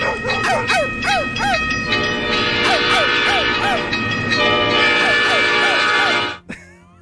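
A New York City subway train in a tunnel rumbles loudly and steadily, with a high metallic whine and repeated squealing tones. The noise stops abruptly near the end.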